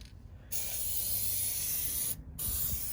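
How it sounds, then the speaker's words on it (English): Dry lubricant spray hissing onto the slide-out tracks of an RV, in two long continuous bursts with short pauses at the start and again near the end, close and steady with no talk. "so it's just a dry lubricant, so it comes on, kind of sprays"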